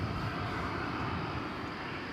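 A large plane takes off or lands at DFW Airport at night, heard as a steady, distant, faint engine roar with a broad rumble and no distinct events.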